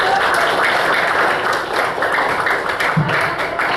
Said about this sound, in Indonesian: Oke, kasih tepuk tangan dulu.